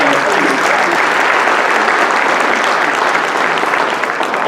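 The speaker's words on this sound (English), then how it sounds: "If I can get a quick round of applause in the back" Dense, even round of applause from a parent-night audience in an auditorium, steady and full throughout with no breaks.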